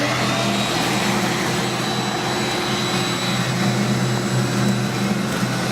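A vacuum hose sucks air out of a foam cushion through a bag, pushed between the Dacron wrap and the foam. It gives a loud, steady, continuous rushing roar that holds even throughout, with no talking.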